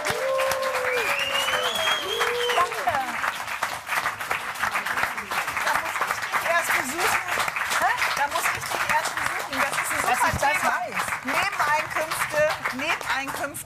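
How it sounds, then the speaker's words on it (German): Studio audience applause on a German late-night talk show, sustained dense clapping at an even level throughout, with some cheering and voices mixed in. "Hans-Jürgen, Applaus für dich."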